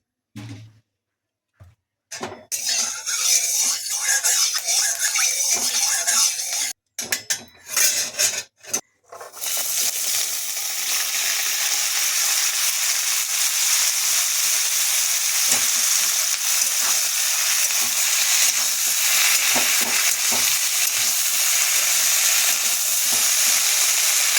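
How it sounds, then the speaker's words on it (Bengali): Boiled figs frying in hot oil in a pan, a loud continuous sizzle; the first few seconds are broken by scraping, rubbing stirs and brief gaps before the frying settles into a steady hiss. "ভেজে নেবো এখন তেলে"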